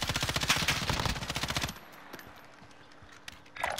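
Rapid automatic gunfire in the Warzone video game rattles off in a loud, fast burst, then cuts to quiet ambience with a few faint distant pops and a final shot.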